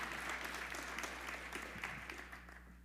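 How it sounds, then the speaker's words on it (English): Warm applause from an audience at a local business talk, a steady wash of clapping over a low electrical hum, gradually fading toward the end. "Can we give a huge, warm welcome with a round of applause for them as they come and share?"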